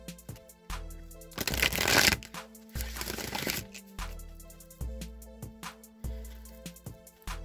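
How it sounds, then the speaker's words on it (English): Tarot cards are shuffled close up, with crisp riffling bursts and repeated soft taps as the deck is gathered and cut in a steady rhythm. No one speaks. "I'm going to go ahead and shuffle the Psychic Tarot"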